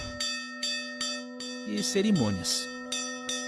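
A temple bell rings in India at a Brahmin priest's home shrine, with repeated sharp strikes about every half second and a long sustained hum, as a voice talks briefly midway through.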